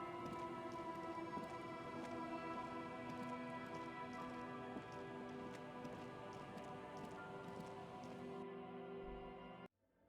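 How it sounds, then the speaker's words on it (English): Steady rain falls in the video game Disco Elysium, a dense, continuous patter at a low level with a faint tonal hum beneath, running evenly until it cuts off abruptly near the end. "It's rain."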